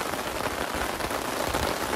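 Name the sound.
heavy rain falling on a tent in the wilderness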